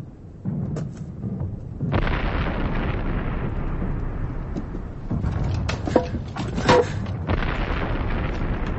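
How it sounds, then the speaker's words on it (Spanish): An explosion in a First World War trench, heard as a heavy low boom followed by sustained rumbling and debris-like crackle, loud and close, with a few further thuds and bursts later on. "Una explosión, sargento."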